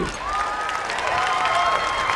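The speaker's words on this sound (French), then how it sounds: "Les pompiers, on les applaudit." An outdoor show audience applauds the firefighters, a brief spread of crowd clapping at moderate distance with a few faint whistle-like tones riding over it.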